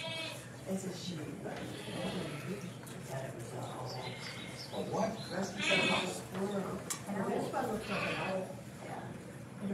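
Sheep bleat repeatedly in wavering, moderately loud calls, and voices are mixed in among them.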